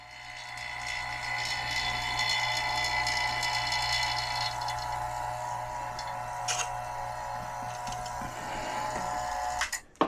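Vacuum pump running steadily on a closed loop BHO extraction system, a constant close mechanical drone with a low hum and faint ticking, and a couple of brief clicks near the end.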